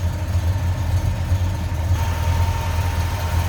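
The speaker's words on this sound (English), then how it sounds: "Nice little rumble coming out of that 350, but nothing over the top" The 350 V8 of a 1969 Chevrolet K10 pickup idles with a steady, moderate low rumble, heard close and alone with no voices.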